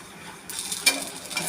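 A mixed-vegetable breakfast cake with peas and spring onion flips over in a hot pan, with a soft scrape and a short clatter at the turn, then a steady close sizzle as it fries.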